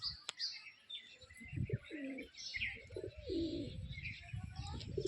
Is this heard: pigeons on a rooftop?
yes